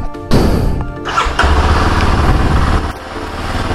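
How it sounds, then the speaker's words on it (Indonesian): A Kawasaki KLX 230 SM SE motorcycle from 2023 cranks and fires up close, its single-cylinder engine catching after a brief starter whine, then revving high and settling into a loud, busy idle. "Sekarang dipanasin dan terdengar raungan atau suara RPM, suara mesin ya, itu terdengar tinggi"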